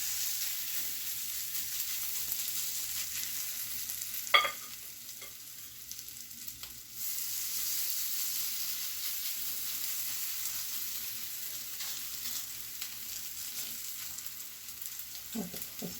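Zucchini corn fritters frying in shallow grease in a pan, giving a steady, close hiss of sizzling oil with a couple of brief utensil clatters along the way.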